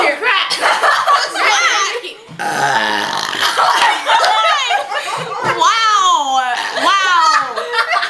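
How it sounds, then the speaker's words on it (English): A child burps loudly several times during a burping contest, long croaking belches mixed with giggling and laughter from children talking nearby. "I'm trying to burp here."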